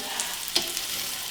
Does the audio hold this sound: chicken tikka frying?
yes